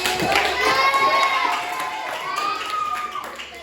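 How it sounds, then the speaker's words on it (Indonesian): A classroom group claps and cheers together, with excited children's voices rising over the scattered clapping across a few seconds. "Oke, tepuk tangan dulu."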